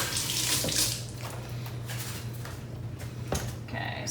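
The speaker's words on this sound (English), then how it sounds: "let me rinse my hand" Running tap water splashes over a hand being rinsed in a kitchen after shredding apple, a steady medium-loud stream with a few brief clatters and knocks near the end.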